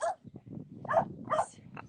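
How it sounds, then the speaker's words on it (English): A neighbor's dog barks several times in short, close yaps against a quiet outdoor background, with no talk in between. "Our neighbor's dog is saying hello."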